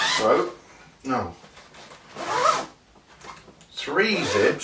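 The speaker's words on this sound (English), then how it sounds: "then zip that back up." Several quick zipper pulls close a Shimoda Explore 40 camera backpack in Sea Pine colour, each a close, raspy stroke separated by short pauses.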